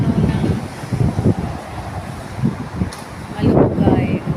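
Strong wind blows outdoors in Kuwait, gusting in loud, uneven surges that buffet the microphone as a plain rumble, and someone talks over it.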